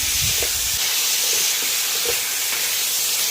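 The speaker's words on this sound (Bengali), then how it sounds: "পটল একসঙ্গে কষে নেব" Potato and pointed gourd sauté together in a pan, a steady close sizzle with faint stirring scrapes.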